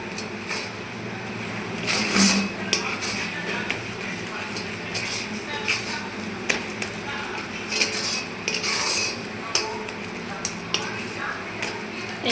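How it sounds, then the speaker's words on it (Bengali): A sandesh mixture blended with milk powder is stirred in a pan, producing steady scraping and stirring noises with light clinks of a utensil, close and moderately loud, alongside faint kitchen background sound. "ভালো করে একসঙ্গে মিলিয়ে নেব।"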